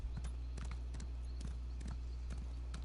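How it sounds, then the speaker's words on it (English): Weighty hoof clip-clop from a trotting horse in The Elder Scrolls Online, a regular rhythmic gait heard close and clear against a constant low background hum. "A horse trot sounds pretty solid as well"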